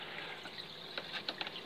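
A small water pump in an auto top-up system pushes water in short squirts, giving faint trickling and splashing with a few sharper drips toward the end, quiet and close.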